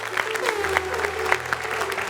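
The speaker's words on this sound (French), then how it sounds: "Ça s'applaudit, je pense que c'est ingénieux ça." Audience applause with a dense patter of claps at steady volume through the whole stretch, mixed with a voice or tonal background underneath.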